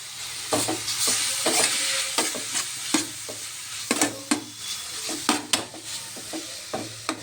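Grated guava sizzles in hot ghee, frying low and steady while a spoon scrapes and stirs it in repeated sharp clicks and sweeps against the pan, close and alone.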